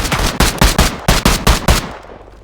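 A quick string of about eight loud, close gunshots fired in rapid, slightly uneven succession, each a sharp report, ending abruptly.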